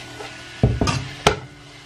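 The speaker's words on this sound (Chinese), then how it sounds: "然后把它们迅速的翻炒在一起" Shredded potatoes with vinegar tossed in a hot wok, giving a few quick scraping stir strokes over a soft sizzle, close and moderately loud, with no talking.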